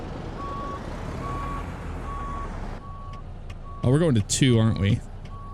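A Kenworth K100 truck in American Truck Simulator sounds evenly spaced reversing beeps over its idling engine, and someone talks over the end.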